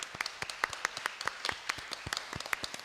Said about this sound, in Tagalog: Palakpakan natin ang mabuting balita.